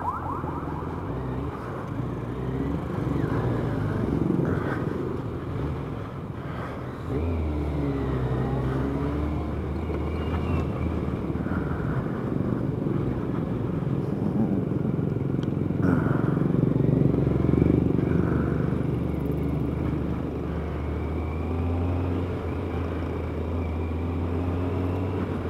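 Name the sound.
Kawasaki ZZR1100 motorcycle riding in commuter traffic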